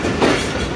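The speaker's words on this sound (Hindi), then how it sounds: "रात को 1:18 पर ट्रेन हमारी पहुंच चुकी है रावलपिंडी रेलवे स्टेशन पर" The Khyber Mail passenger train pulls into Rawalpindi railway station at night, a loud, dense rumble of wheels and carriages filling the brief moment with no voices.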